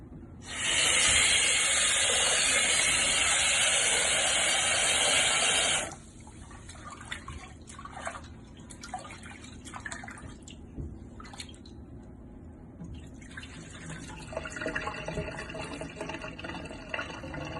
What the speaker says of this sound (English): Okay, so I'm going to give it a last rinse